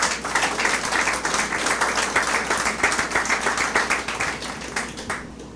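A church congregation applauding during a sermon: close, rhythmic clapping from a group, with distinct individual hand claps in a steady beat that stops abruptly at the end.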